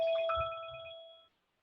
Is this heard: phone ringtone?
yes